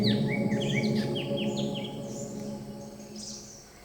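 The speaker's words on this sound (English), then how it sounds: "Suddenly, I realized I was surrounded by birds." Several forest birds at Seethanadhi Nature Camp give quick, rising and falling chirps and whistled calls close by, a busy run of notes in the first two seconds that thins out over a steady low background hum.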